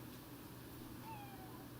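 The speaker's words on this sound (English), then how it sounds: "She meowed." A pet cat named BlackBerry gives a faint, short meow with a slightly falling pitch, heard once over steady indoor room hum.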